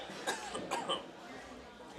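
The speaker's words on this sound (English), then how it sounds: "Cough." A cough at an archery tournament qualification round, two or three short, harsh bursts close to the microphone, with low background chatter and room noise around them.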